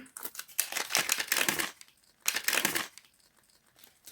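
Crinkly paper or plastic packets being handled and torn open, two loud rustling bursts close by with a short pause between them.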